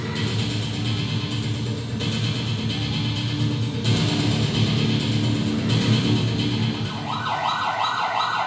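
A siren wails steadily through dense traffic noise, with a rising-falling tone becoming clearer near the end over a constant engine rumble.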